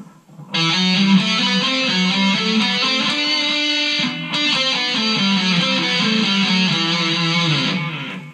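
A loud, sustained electric guitar riff rings out with a slightly gritty, driven tone, playing steadily for several seconds before fading.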